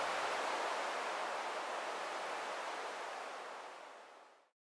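White noise shaped with tremolo, delay and reverb to imitate ocean waves, a broad hissing wash that swells and then fades away to silence, heard alone.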